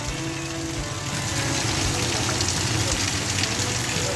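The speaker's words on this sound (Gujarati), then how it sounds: "વરસાદ ચાલુ છે" Monsoon-season rain pours down outdoors at night, a dense, steady wash of falling water that holds at an even, fairly loud level for the whole stretch.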